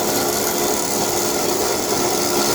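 A bandsaw cuts slowly through an exhaust pipe from a 1967 Chevy Bel-Air being fitted with new flanges, giving a dense, continuous loud grinding hiss that stays steady throughout.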